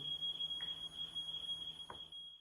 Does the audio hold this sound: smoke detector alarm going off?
yes